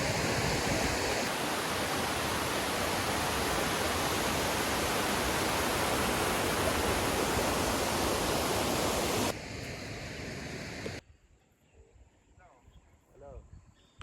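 A stream flowing from a waterfall near Kodaikanal, heard as a loud, steady broadband rush close by. The water noise drops off sharply toward the end, leaving quieter outdoor ambience.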